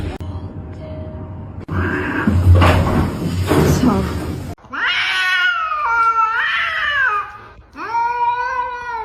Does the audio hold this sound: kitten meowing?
yes